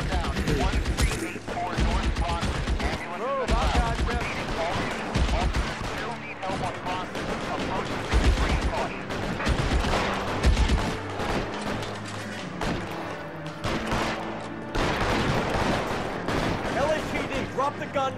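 Video game gunfire in L.A. Noire: repeated bursts of shots and rapid volleys crackle over a busy game soundscape, loud and dense throughout, with voices talking in between.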